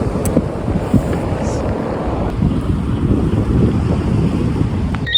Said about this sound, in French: Là, le vent qui tue mes cheveux, c'est mon quotidien.